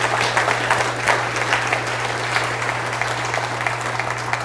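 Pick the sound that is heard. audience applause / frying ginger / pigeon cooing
audience applause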